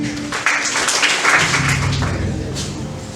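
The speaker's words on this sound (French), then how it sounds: "Sous vos acclamations" Audience applause at a launch dinner for a national convention in Atakpame, welcoming the evening's speaker: a steady, dense wash of clapping that fills the room for the full stretch, fairly close and without talk.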